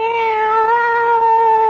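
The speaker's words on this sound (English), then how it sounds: "It's a cat fight." A cat screeches in one sustained, loud, tonal yowl during a cat fight in a kitchen, close and alone with no talk.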